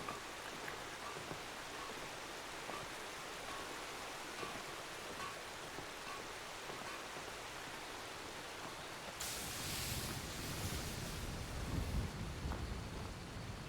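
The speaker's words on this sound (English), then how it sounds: "you can see the gorgeous waterfall that runs on the backside of the town." Steady rushing waterfall behind Folkstead town in the video game Skyrim, a continuous broadband roar with no voices, growing louder and fuller in the last few seconds.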